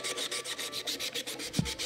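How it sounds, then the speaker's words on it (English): Wood being sanded by hand during fiddle making, steady rhythmic back-and-forth rubbing strokes at about five per second, close and moderately quiet, with a small knock near the end. "the carving and sanding begin"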